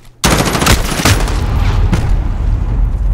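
Rapid automatic gunfire rattles loud and close in a Call of Duty: Modern Warfare team deathmatch, a sustained burst of shots with no talking.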